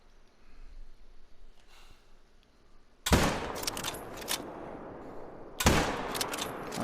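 Two loud rifle shots from a whitetail buck hunt in a video game, the first about three seconds in and the second later, each a sharp crack trailing into a long echoing decay over soft ambient hiss.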